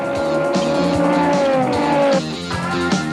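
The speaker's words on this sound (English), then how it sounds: "the Rothmans Audis head for the line" Rothmans Audi race cars in a 1993 Wesbank Modifieds race at Goldfields roar toward the finish line, with a loud, sustained high-revving engine note rising and shifting as they pass close by, over a steady crowd-like wash.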